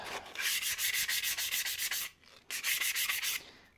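An old propeller shaft is scuffed by hand with abrasive to strip off corrosion. The rapid back-and-forth rasping strokes are loud and close, they pause briefly, and then another burst of scrubbing follows.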